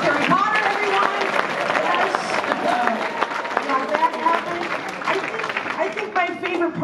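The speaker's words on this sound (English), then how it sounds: "clap it up one more time for Miss Spinning on the Dick" Audience at a comedy roast battle applauding: dense, sustained clapping from a crowd mixed with cheers and murmuring, while a host speaks over it.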